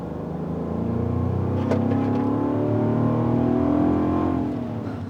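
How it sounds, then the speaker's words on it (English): A Land Rover Defender's V8 engine revs steadily from inside the cabin, a deep smooth drone that swells and holds through the middle before easing off slightly at the end, with no talking. "here we are in this Defender with the V8."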